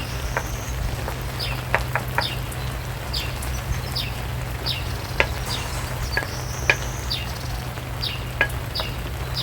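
Liberian chuck rice stirred while it fries, a soft even sizzle under a steady low hum, with faint intermittent scraping ticks from the spoon and no talking.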